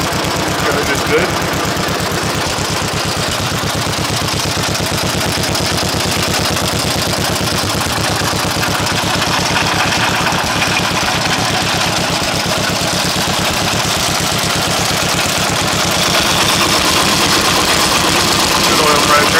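A 1942 John Deere Model LA tractor engine idles close and loud with a steady, rapid, popping two-cylinder-style chug that holds unchanged for the whole stretch.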